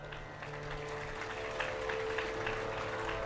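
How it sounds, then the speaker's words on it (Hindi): Scattered applause from an audience at a Hindu katha discourse, a soft, sparse patter of a few hands clapping, fairly distant and quiet throughout. "समझ में नहीं आई बात, तभी 2 ही लोग ताली बजा रहे"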